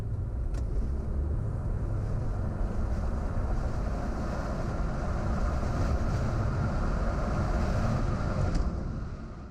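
A 2020 BMW 320d mild hybrid pulls hard from 30 to 70, its diesel engine and road roar a steady, loud, broadband rush heard from inside the cabin for nearly ten seconds, with no talking.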